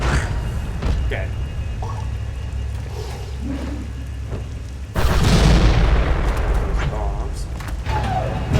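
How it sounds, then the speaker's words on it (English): Bombs exploding in the Star Wars: The Force Unleashed video game, a sudden loud broadband blast around the midpoint that rumbles on over game ambience, with a voice talking throughout. "Bombs."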